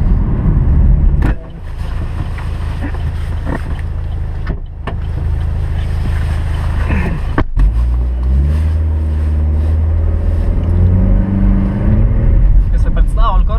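An Opel Corsa OPC with its standard Remus exhaust idles with a deep burble, then revs up loudly nearby with rising, rasping engine tones, voices faintly present.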